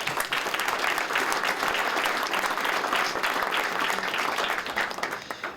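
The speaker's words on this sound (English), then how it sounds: "so let's give him a quick round of applause" A room full of people at a startup panel event claps for a guest, sustained dense applause holding level for several seconds before starting to thin at the end.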